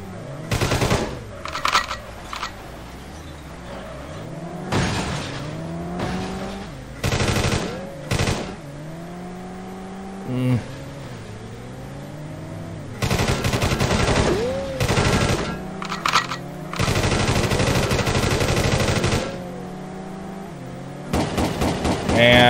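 Repeated bursts of machine gun fire ring out in the PS1 police-chase game World's Scariest Police Chases, rapid rattling volleys mixed with engine and siren-like tones, with short pauses between bursts.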